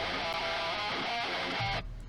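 Electric guitar run through a Neural DSP amp simulator plugin, a dense, saturated chord sustained loud and close for about two seconds before cutting off sharply.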